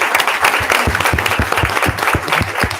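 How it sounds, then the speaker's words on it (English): Audience at a school board meeting claps in a short burst of close, dense applause that carries on evenly for a few seconds. "give a good round of applause to the two people at the end"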